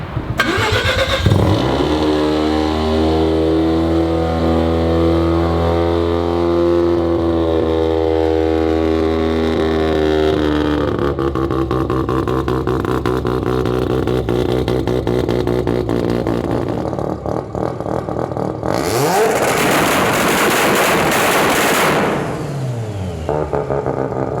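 A turbocharged Mazda RX-7 FD with a rotary engine revs hard, rising and falling through long loud sweeps with a brappy idle between pulls, and a sharp higher burst near the end. No one speaks.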